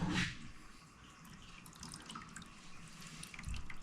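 Pool water siphoned through a hose trickles and drips slowly, a steady, close, gentle wash of running water with a few small splashes and no talking.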